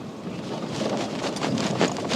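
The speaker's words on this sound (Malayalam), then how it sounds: "എന്താ ആഹാ, നല്ല തണുത്ത കാറ്റ്." A cold wind blows across a flat hilltop plateau on a road trip in Maharashtra, buffeting the microphone with a steady gusty rush that swells slightly, with no talk.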